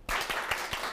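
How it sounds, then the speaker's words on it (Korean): Audience applause welcoming a guest lecturer at a Korean lecture show, bursting in abruptly and holding as a dense, steady clapping from a room full of people, fairly loud and close. "청산뉴스 라이언킴 강사님의 강연을 박수로 청해 보겠습니다."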